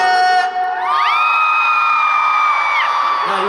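A concert crowd of fans cheers, whoops and shouts loudly together during a sound check, a sustained high-pitched roar that swells after a brief dip and holds steady to the end.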